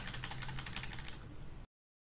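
Rapid, close keystrokes on a computer keyboard patter continuously for under two seconds, then stop abruptly.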